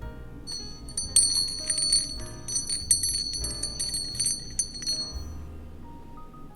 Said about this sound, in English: I told you there's a lot of bells in this collection